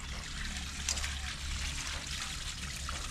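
Cold water runs steadily from a garden hose in a backyard garden, a continuous close splashing hiss that stays even throughout.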